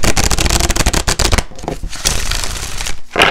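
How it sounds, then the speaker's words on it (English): A rapid, dense riffle of a tarot card deck being shuffled, loud and close, followed by softer rustling and a final quick flutter. "Let me just give this deck one more shuffle."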